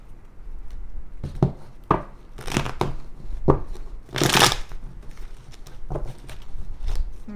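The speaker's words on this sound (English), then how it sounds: "Let me get one good shuffle" Tarot cards shuffled by hand in a series of quick papery riffles and slaps, some bursts louder than others, close up with no talking.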